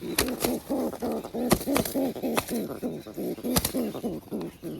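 Pigeons coo in a home pigeon setup, a steady run of soft low throaty coos repeating close by, punctuated by a few sharp clicks or taps.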